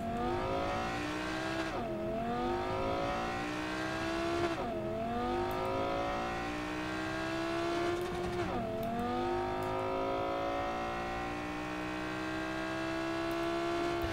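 Steady engine drone of a car driven in Cyberpunk 2077, with repeated rising revs and gear-shift dips every few seconds, continuous and fairly close with no talk.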